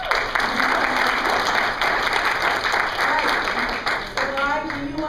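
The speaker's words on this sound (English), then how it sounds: "so we can give him a welcoming applause" Sustained audience applause welcoming a Lee County Judge candidate at a public forum, a steady dense wash of clapping that continues throughout and fades slightly near the end.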